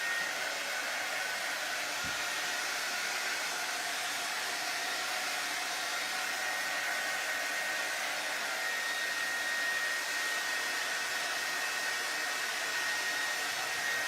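Steady, unbroken hiss and whine of a hair dryer blowing close by to dry paint on a faux farmhouse wood board, running alone for the whole stretch.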